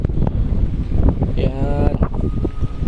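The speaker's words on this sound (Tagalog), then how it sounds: "Sobrang lakas ng hangin dito, parang hindi nauubusan ng hangin eh." Strong wind buffets the microphone at a roadside stop in Baras, Rizal, a loud continuous rumbling roar with gusty swells, while a brief voice sounds underneath.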